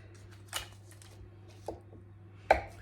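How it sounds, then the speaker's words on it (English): A knife cuts a block of butter into cubes on a kitchen surface, giving three separate quiet chopping taps spaced roughly a second apart, close and soft. "I've literally cut the butter block in half and I'm going to cube this"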